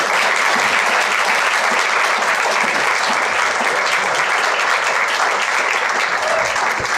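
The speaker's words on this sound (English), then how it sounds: "Let's give him a big round of applause" Dense, sustained applause from a large audience at a farewell gathering, loud and steady for the full stretch with no break or talk.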